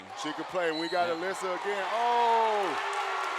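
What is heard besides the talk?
basketball crowd cheering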